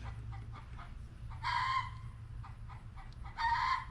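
A backyard hen cackles to announce a freshly laid egg, two loud bursts of squawking rising over a steady low hum, with fainter clucks in between, heard from a short distance outdoors.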